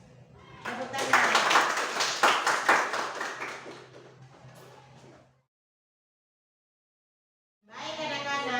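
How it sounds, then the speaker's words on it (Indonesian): Classroom applause after a student group presentation, a few seconds of uneven clapping with chatter mixed in, then a silent gap before voices and clapping pick up again. "Tepuk tangan."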